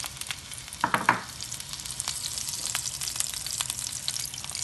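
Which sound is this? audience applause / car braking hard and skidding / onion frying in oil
onion frying in oil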